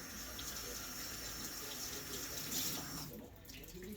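Water runs steadily from a tap into a sink at close range for several seconds, a broad continuous hiss and splash that thins out near the end.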